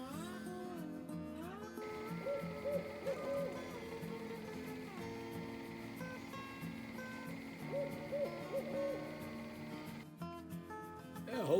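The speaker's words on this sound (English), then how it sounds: "hopefully you could hear the owls" Owls hoot repeatedly at night on a rural hill, the calls fairly faint and distant over a steady background hum, with short quavering phrases recurring at intervals.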